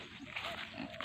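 A pet pig grunts in a few short, low snorts close by, soft and brief, with farmyard background noise.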